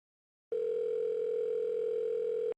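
A steady telephone dial tone in the video game Saints Row (2006) sounds alone after a brief silence, one unbroken electronic hum held at an even level for about two seconds before it cuts off.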